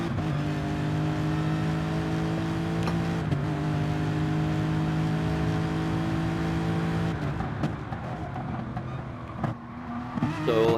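Sim racing cars at the Red Bull Ring in a video game: a sustained, steady engine drone with layered harmonic tones, changing pitch as the cars shift and brake near the end, loud and continuous.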